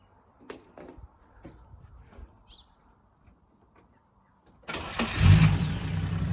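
A Datsun 260Z engine cranks and fires on its first start after work, rising abruptly from quiet shuffling into a loud, close, steady idle that runs to the end.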